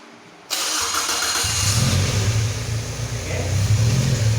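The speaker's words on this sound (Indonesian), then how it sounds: "Sistem pengapian ESA ini coba kita hidupkan dulu." A Toyota Corona EFI engine with ESA ignition, mounted on a training stand, cranks and fires up, then settles into a steady loud running rumble close by, with no talking.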